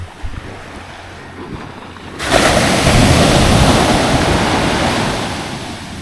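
Ocean waves surge onto the sandy Mullaitivu beach in Sri Lanka, a loud, close, broad roar of breaking surf swelling suddenly after a quieter wind-blown start, then slowly easing off.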